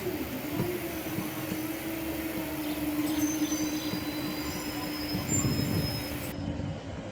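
A narrow-gauge train passes at St Bees with a steady rumble of wheels on rail and a long high squeal running through, close and loud throughout.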